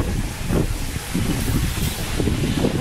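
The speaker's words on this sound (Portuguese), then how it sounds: "tem uma chuva de vento aqui, molha tudo" Gusty wind roars across the microphone with a dense wash of driving rain in Bangu, loud and close, buffeting in uneven surges throughout.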